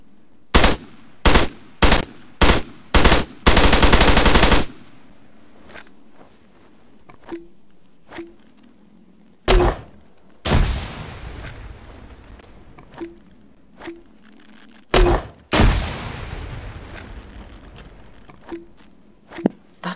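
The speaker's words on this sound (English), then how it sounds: "That's some good spray on the grenade launcher there" AK-74 fire with a GP25 grenade launcher in a video game mod: a string of loud single shots and a rapid burst, then sparse clicks and two deep grenade thumps with rumbling tails.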